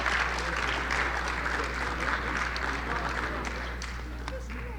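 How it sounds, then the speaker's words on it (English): Audience applause for inductees at the First Coast Business Hall of Fame ceremony, a sustained, even crowd clapping that fades slightly toward the end. "Can we give them a round of applause?"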